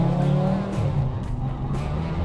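A rally car in first gear pulls away under throttle at a rally event, a loud, close engine note that rises and falls with gear and revs through short bursts, with no talk.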